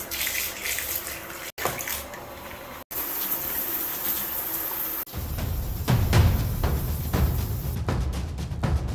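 Shower spray drumming onto a waterproof jacket, a loud continuous rushing hiss with brief breaks and a heavier, fuller splash in the later part.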